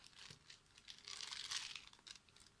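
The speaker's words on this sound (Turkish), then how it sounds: "Yani şu poşetinden çıkartayım size" A plastic bag crinkles and rustles continuously while spare parts for an Arimic microphone are unpacked, close and faint, with no voices.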